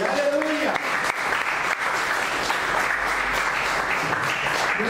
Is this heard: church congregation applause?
yes